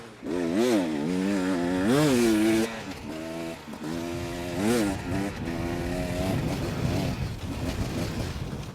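Hard enduro motorcycle engine held flat out on a mountain trail, a loud continuous wail whose pitch rises and falls as the throttle is worked, swelling near the start and again midway with no pause.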